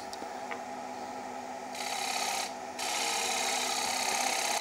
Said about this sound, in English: So we'll try the GL5 and we'll do a little shear, scrape on the side.